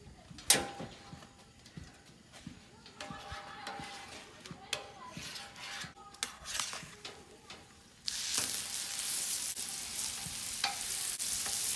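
Lobster tail cooks on a Blackstone griddle. Scattered clanks and taps of tools on the hot steel are followed by an abrupt, loud, steady sizzle close by that holds to the end.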